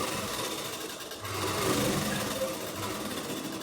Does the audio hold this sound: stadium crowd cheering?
no